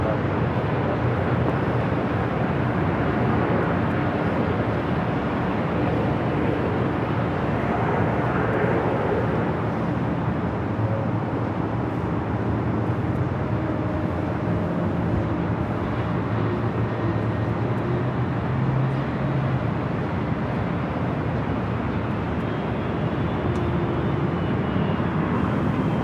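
Airliner at Los Angeles LAX airport, a steady broad jet roar that swells and fades over about half a minute at a moderate distance, with a person talking partway through.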